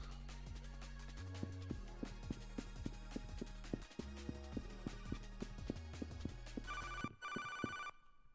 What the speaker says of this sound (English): Could someone answer the phone, please?